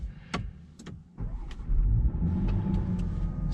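A Land Rover Defender 110 P400 cold-starts in freezing weather with a few clicks and a starter whir, then the engine catches and surges to a steady, loud, close idle rumble.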